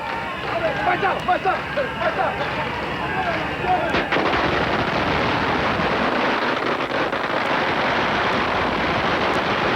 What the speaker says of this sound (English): the Ghost Festival ends with fires and explosions.